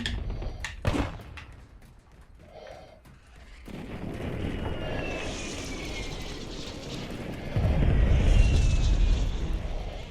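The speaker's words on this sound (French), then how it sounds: "Attention, frappe hostile en approche." Incoming hostile airstrike in Call of Duty: Warzone: a few sharp thuds early on, then a sustained roaring wash with faint whistling streaks and a heavy low rumble building loudest near the end.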